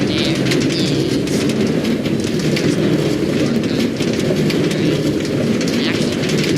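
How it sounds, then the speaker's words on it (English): A minecart in the Minecraft video game rolls along its rails with a steady, loud, rattling, hissing clatter that continues unbroken throughout. "You couldn't hear me over the minecart"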